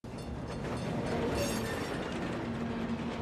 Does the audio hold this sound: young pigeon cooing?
no